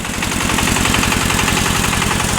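A mini sprayer with an NSh-10 gear pump runs off a cardan shaft, with the engine behind it making a loud, steady, rapidly pulsing rumble that continues unbroken at close range.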